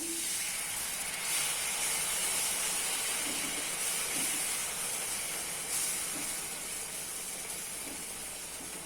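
A steady, loud sizzle and bubbling hiss of egg and peas masala gravy simmering with added water in a hot pan, continuing evenly throughout with no voices.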